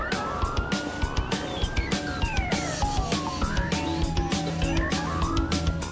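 A 130-decibel police car siren wails and yelps with sweeping pitch, loud and continuous, over rhythmic thumping music or engine noise.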